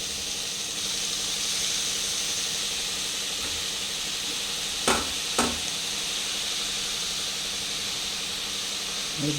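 Red amaranth greens tossed into onion frying in a pan, giving a steady broad sizzle and hiss throughout, with two brief sharp stirring scrapes partway through and no talk.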